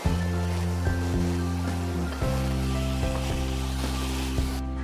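Crab sticks fry in a pan for Indian fusion sushi, giving a steady, close hiss of sizzling oil over a low constant hum, with no one speaking.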